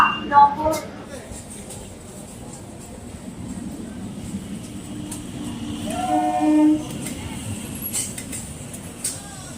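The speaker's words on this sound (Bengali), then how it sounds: "অবশেষে পৌঁছালাম দমদম জাংশন স্টেশনে আর এখান থেকে আমরা নৈহাটি ট্রেন ধরবো" Steady rumbling railway station ambience at Dum Dum Junction, India, with a train's low drone, a brief tonal horn-like call midway, and people talking faintly in the background.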